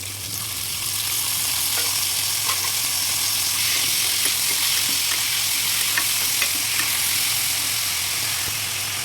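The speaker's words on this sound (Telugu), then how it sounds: "దీంట్లో ఆనియన్, పచ్చిమిర్చి, టమాటా వేసేసుకుంటున్నాను." Onion, green chilli and tomato frying in oil in a cooker for mutton masala, a steady close sizzle with light stirring scrapes and no talk throughout.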